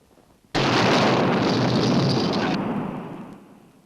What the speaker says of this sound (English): London was rocked by a huge unexplained explosion